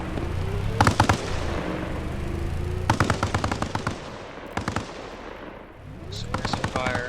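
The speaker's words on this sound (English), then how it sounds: "Suppressive fire." Bursts of suppressive gunfire during mounted squad training, several sharp rapid volleys spaced a second or two apart, loud and close over constant background noise, with voices in the clip.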